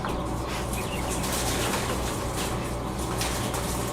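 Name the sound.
jumbo Coturnix quail cooing and flapping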